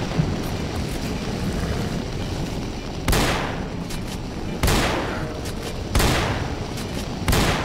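Gunfire in the video game STALKER: Call of Pripyat: four sharp, loud shots land about a second and a half apart, each fading quickly, over a constant rumbling game background with no talking.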